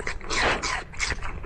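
A dog eating watermelon, with wet chewing, slurping and snorting sounds coming in close, irregular bursts.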